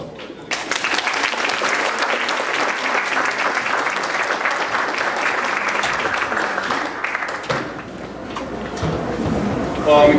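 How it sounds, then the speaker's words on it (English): A school board meeting audience gives a round of applause, sustained, dense clapping from many people filling the room, then tapering near the end as the crowd settles. "And how about one more round of applause?"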